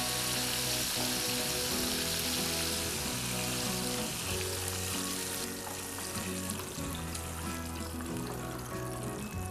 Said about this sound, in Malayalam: അടുത്തായി നമുക്കൊരു 4 മിനിറ്റ് നേരം കൂടെ നമുക്കൊന്ന് ഫ്രൈ ചെയ്തെടുക്കാം.